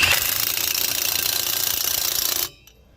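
An impact wrench tightens the lug nuts on an Airstream trailer wheel. It gives one loud, steady, rattling burst lasting about two and a half seconds, then cuts off abruptly to near silence.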